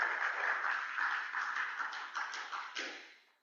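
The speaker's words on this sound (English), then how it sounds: "Let's all give a round of applause to Sam for being a good leader" Applause for a good leader named Sam at a meeting, a dense patter of many hands clapping steadily for about three seconds before fading out.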